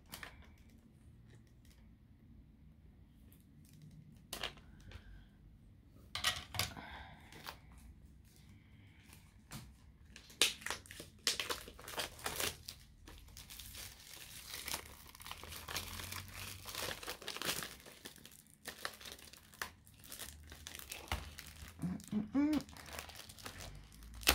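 Plastic wrapping crinkles and tears as a package of 12 watercolour paints is cut open with a scalpel, in scattered close rustles and crackles that grow busier, with a voice murmuring now and then.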